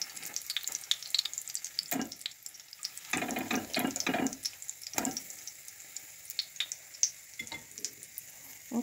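Fluffy kefir pancakes (oladyi) fry in a pan over medium to medium-high heat, giving a quiet, uneven sizzle with short louder bursts of crackle.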